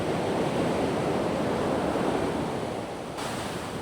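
Waist-to-shoulder-high beach surf breaking in clean conditions under a westerly wind, a steady, loud wash of waves rolling continuously close by, easing slightly toward the end.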